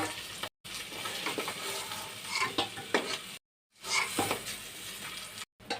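Deshi koi fish fry in hot oil, a dense close crackling sizzle with bursts of spattering and a few clinks of a utensil, broken by short silent gaps.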